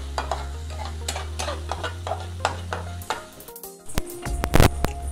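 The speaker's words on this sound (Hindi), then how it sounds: "और थोड़ा धनिया पाउडर मिलाते हैं, उसको अच्छे से मिक्स कर देंगे।" Spoon stirring spice masala with coriander powder in a pan for chicken momos, a series of soft scraping strokes over a faint sizzle, ending in a few louder clanks.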